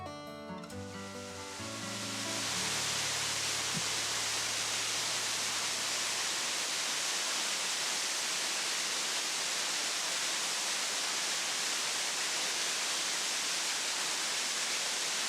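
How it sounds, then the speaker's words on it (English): Waterfall at Broken Rock Falls in Ohio's Hocking Hills, a wet-weather fall on a steep side trail, roars as a steady, loud broadband rush of falling water that swells in after a brief quieter opening and continues unbroken. "A short but steep side trail leads to a wet weather waterfall that is rarely visited."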